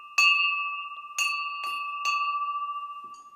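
A bell rung by its clapper, from a foundry making bell clappers: four bright metallic strikes at uneven intervals, each leaving a long sustained ringing tone that carries between the hits, close and clear with no speech.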